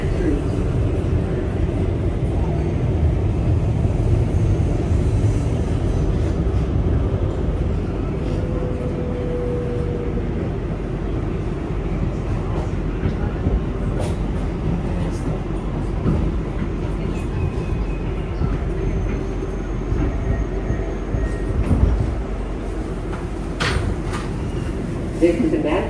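A New York subway 7 local train rumbles steadily from inside the car, a constant low roar with occasional rattles and clanks over the whole stretch.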